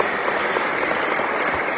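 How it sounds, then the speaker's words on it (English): An audience at a community event on the Belize Constitution gives a round of applause, a loud, dense, continuous wash of clapping from many people, steady throughout. "Can I ask that you give a round of applause to Ms. Shalini for the anthem?"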